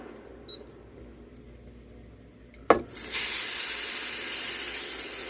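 A rainbow trout hits a pan of hot chili oil with sesame and chili; after a quiet lead-in and a sharp clatter, a loud, continuous sizzle of frying erupts and holds steady to the end.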